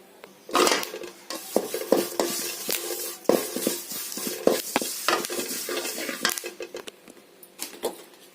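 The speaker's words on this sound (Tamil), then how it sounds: "கருவேப்பிலையும் நம்ம மொறு மொறுன்னு வர மாதிரி வர வரைக்கும் வறுத்துக்கலாம்" Chana dal and curry leaves roast in a pan for black urad idli podi, with repeated scraping, stirring and clinking of a spoon against the pan over a faint crackle, heard close up.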